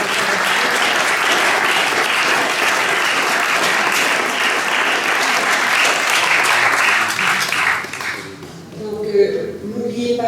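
Sustained audience applause at the close of a talk at an ecumenical Lent gathering, dense even clapping for about eight seconds before fading out into a quieter room.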